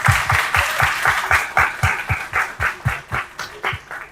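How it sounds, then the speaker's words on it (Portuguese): Audience applause at a business panel event in Porto Alegre, rhythmic unified clapping with steady beats, fairly close and continuous throughout, no voices on top. "Uma salva de palmas."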